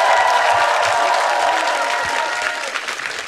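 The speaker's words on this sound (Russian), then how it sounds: "эти аплодисменты тебе!" A studio audience on a Russian TV show bursts into applause and cheering, a loud sustained clapping with a few whoops at first that slowly tapers off toward the end.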